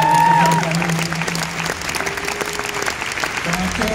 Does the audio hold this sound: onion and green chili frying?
no